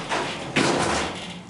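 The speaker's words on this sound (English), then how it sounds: "Close the door." Sliding door of a Montgomery hydraulic elevator cab, modernized, closing in a Sears store at a mall: a soft sliding rush, then a firm thud as the panel meets the frame, close and fairly loud.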